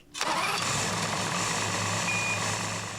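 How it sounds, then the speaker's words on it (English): An Evinrude E-TEC 250 HO outboard boat engine cranks and catches almost at once, then runs steadily at a loud, even idle with a low hum and a faint high whine. "Start the outboard"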